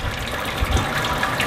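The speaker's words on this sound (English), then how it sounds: "I'm just gonna kind of start sparging this until I start seeing water pile up here." Hot 168-degree sparge water pours from a pot over the grain bed in a Grainfather all-in-one brewer during an Amarillo SMaSH home brew, a steady close gush and splash with low burbling throughout.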